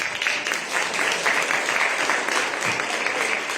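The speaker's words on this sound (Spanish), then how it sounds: "Que la que inició el aplauso fue la senadora María García" Audience applause at a Mexican senate session, steady dense clapping from a crowd held at an even level throughout with a faint voice underneath.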